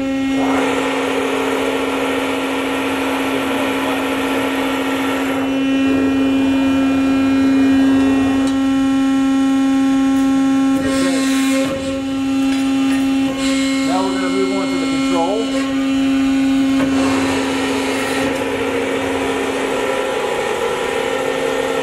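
A Cincinnati 135FM-II 135-ton hydraulic press brake, 10-foot bed, runs with a steady, loud mechanical hum and a strong tonal drone, with brief shifts in texture midway as the machine cycles.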